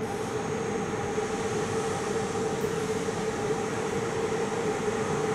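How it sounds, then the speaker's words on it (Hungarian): A passenger train, the Ister EuroNight from Bucharest, arrives at a station platform in Budapest. Its steady, loud rumble of wheels and rails rolls on without pause, with no voices over it. "Személyvonat érkezik Kelebia felől a 6. vágányra."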